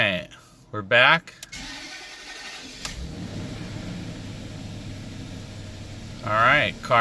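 A Range Rover engine cranks and catches after fuel tank and fuel filter repair work, then settles into a steady close idle for several seconds, with a voice heard briefly at the start and end.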